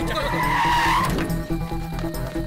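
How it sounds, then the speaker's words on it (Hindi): A car braking hard with tires skidding and squealing in a tense action scene, a loud screech over rumbling engine noise that fades after about a second, with background music. "गाड़ी रोको, गाड़ी रोको।"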